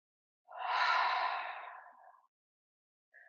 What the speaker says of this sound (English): Once you reach the top, hold for a few seconds and then exhale through the mouth.